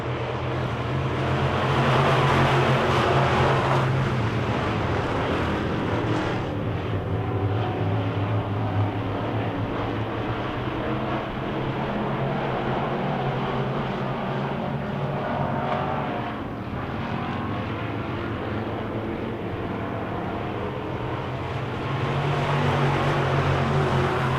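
Wissota Midwest Modified race cars roar around a dirt oval track at the start of a heat, a loud continuous engine drone swelling and fading as the pack passes, with no talk over it.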